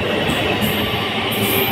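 A passing train rolls by close and loud, a continuous heavy rumble of wheels and carriages with a few high metallic squeals on top, filling the whole moment with no voices.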